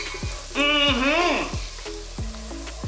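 Garlic and bacon fry together in a pan with a marinade, giving a steady close sizzle with light stirring clatter underneath.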